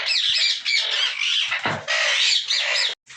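Green ringneck parrot breeder pairs at a Sunday bird market in Bahawalpur give loud, near, continuous harsh squawks and screeches that break off briefly at the end.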